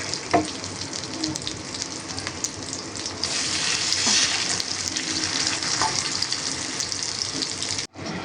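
Hilsa fish with roe sizzles and crackles steadily in hot oil in a pan. The close frying hiss holds for several seconds, swells slightly midway and cuts out abruptly near the end, with no talking.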